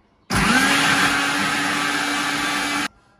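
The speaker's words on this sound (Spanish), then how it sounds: "lo echamos en nuestra licuadora y empezamos a licuar" A kitchen blender purees a hot sautéed tomato base for pasta sauce, switching on with a loud steady whir that runs about two and a half seconds, then stops abruptly.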